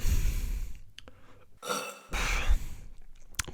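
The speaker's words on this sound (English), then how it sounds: "Need a burp." A short, throaty burp sounds amid rustling and breathy noises, fairly close and moderately loud.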